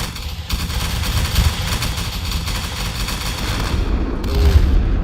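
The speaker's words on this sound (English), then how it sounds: "Lamer focuses cannon fire on one piece, and it takes out a piece of line infantry of Rael" Cannon fire rumbles through a battle video game, a dense, continuous barrage of booms and gunfire with heavy low-end thuds, loud and steady throughout, with no talking.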